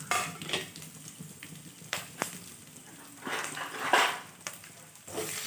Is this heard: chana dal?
yes